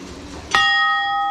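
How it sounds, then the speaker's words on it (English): A small temple bell in Nepal is struck once, giving a sharp clang that settles into a bright, sustained ring with several steady tones, heard close and clear over quiet surroundings. "there's a bell here, little clanger"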